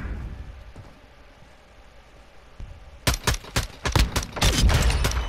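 Rapid bursts of gunfire in a competitive video game shooter match, a quiet stretch of low background noise giving way to loud, closely spaced shots and volleys in the final seconds.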